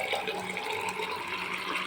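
Water pours steadily into a tank as a continuous, fairly loud rushing and splashing flow that holds evenly for a couple of seconds with no talk.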